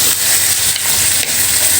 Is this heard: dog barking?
no